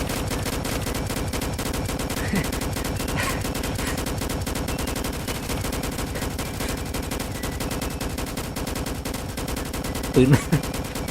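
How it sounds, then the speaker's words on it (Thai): Rapid bursts of gunfire in the Roblox game A Dusty Trip, sustained and dense across the whole stretch under a busy game soundtrack, with a louder cluster of shots near the end. "ตายแล้วยังรัวปืนอยู่เลย"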